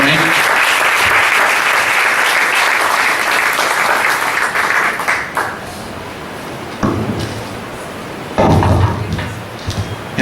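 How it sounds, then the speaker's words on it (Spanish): A church congregation bursts into loud, sustained applause for about five seconds, then it thins into scattered clapping, a few thumps and murmuring voices, with a brief second swell near the end. "Denle un aplauso al Señor en esta noche por esto."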